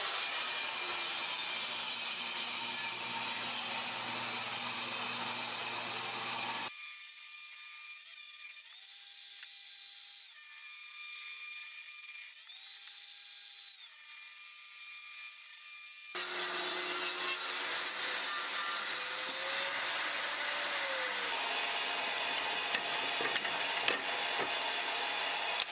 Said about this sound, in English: I've got my ripping blade on there, and I'll be cutting 1-inch strips.